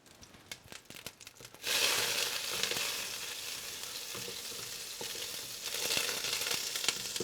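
Butter melting in a hot pan before cooking mussels, with a soft crackle that quickly rises into a steady, dense sizzle lasting several seconds, close up and with no one talking.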